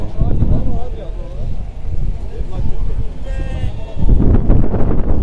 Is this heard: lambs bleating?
yes